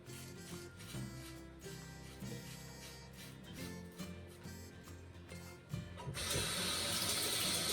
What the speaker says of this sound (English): Keep rinsing it under hot water.